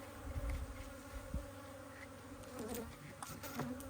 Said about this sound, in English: Man, all these bees are alive in here.